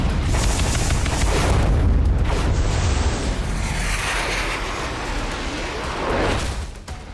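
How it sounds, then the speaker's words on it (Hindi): A long-range anti-ship missile launches from a warship and strikes its target, heard as a heavy, sustained roaring boom that rumbles loudly for several seconds and then slowly fades. "वॉरशिप से मिसाइल निकली और टारगेट को सेकंडों में ध्वस्त किया"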